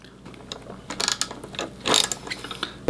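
A 10 mm wrench turning the windscreen nut on a Kawasaki Vulcan S cafe racer, a close quiet run of clicking ratchet and metal-on-metal ticks with a few sharper scrapes, no talking.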